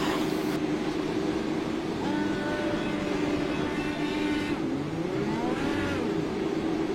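Race car engines rev and roar steadily on pit road during 360-degree burnouts, with the pitch climbing in loud, continuous surges.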